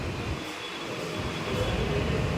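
A metro train rumbles at a station, a steady broadband roar with a faint high whine, close and continuous without speech.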